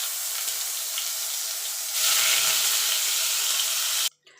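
Paneer cubes frying in hot oil in a pan give a steady, close sizzle that grows louder and harsher halfway through, then cuts off abruptly near the end.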